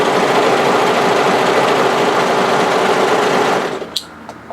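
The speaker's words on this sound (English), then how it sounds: "I'm going to overlock the crotch area." An overlocker serging the crotch seam of a scoop-neck bodysuit runs as a steady, close, continuous whir for about three and a half seconds, then stops, leaving a few faint clicks.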